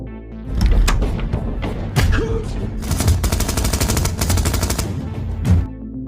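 Sustained burst of film gunfire pumping dozens of bullets into a drug dealer, rapid automatic shots with heavy thumps, loud and continuous throughout with no talk.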